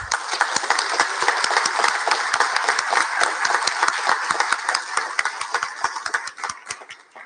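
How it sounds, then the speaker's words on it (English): A city council meeting audience applauds utility staff with close, loud, crisp claps that stay dense and rhythmic for about seven seconds before thinning and stopping. "So please join me in applauding utility staff."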